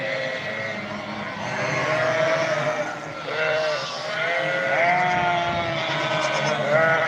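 Lambs bleat over and over, several overlapping high wavering cries close by, with a steady rumble of background noise underneath.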